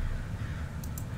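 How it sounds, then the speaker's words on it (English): Crows caw in the video game Summer of '58, two brief harsh calls standing out over a dense, low ambient rumble. "so many crows in one spot is not a good sign"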